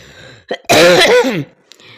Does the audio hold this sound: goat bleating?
no